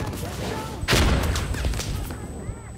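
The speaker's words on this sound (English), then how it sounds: "this Sterling SMG is shredding right now" A Sterling SMG fires in a video game as a sharp rattling burst near the one-second mark, followed by scattered fainter shots and low booms, with brief muffled voice sounds underneath.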